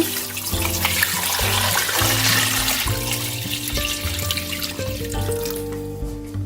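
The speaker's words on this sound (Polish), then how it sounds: "Całość zalewam wodą." Water pours steadily into a cooking pot over pork knuckles, a broad rushing wash with faint clinks of metal underneath, close and continuous, easing slightly toward the end.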